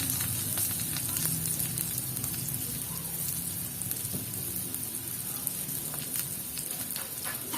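Garlic, onion and pepper sautéing in oil for Filipino pork adobo give a continuous crackling sizzle with small popping spatters and occasional stirring, close and steady throughout.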